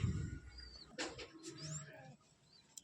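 A Giribaz pigeon gives a few faint, low cooing notes against a quiet, soft background, with brief thin chirps layered over them.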